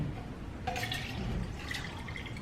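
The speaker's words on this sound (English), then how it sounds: "I'm going to grab a copper cup full of ice and strain it all in there." An Orange Moscow Mule cocktail is strained over ice into a copper cup, giving a soft splashing pour with light clinks of ice for about a second, heard close and quiet.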